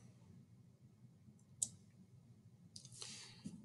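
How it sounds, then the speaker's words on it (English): A computer mouse clicks once, sharp and faint, in a quiet room, followed a moment later by a softer rustle of handling. "So we're going to click on here."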